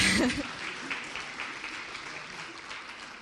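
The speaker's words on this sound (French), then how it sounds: "Vous pouvez applaudir" An audience at a women's conference gives a short round of applause, moderately loud at first and then thinning out, with a faint chuckle mixed in.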